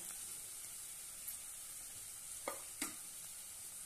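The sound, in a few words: spices sautéing in oil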